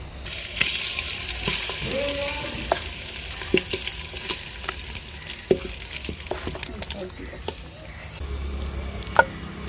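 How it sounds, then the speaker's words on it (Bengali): Chicken frying in a clay handi pot over a tempering of cumin, dried red chilli and bay leaf gives a steady close sizzle, broken by scattered clicks and scrapes of stirring, with no voices. "হাঁড়িটা ঠান্ডা করে নিয়েছি, এবার আমি চিকেনটা দিয়ে দেবো।"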